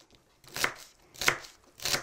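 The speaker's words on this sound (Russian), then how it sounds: "Можно тоже не очень мелко нарезать." Three crisp knife chops through celery stalks on a cutting board, evenly spaced about half a second apart, close and clear with no talking.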